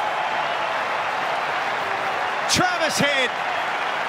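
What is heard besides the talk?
cricket crowd applauding at Adelaide Oval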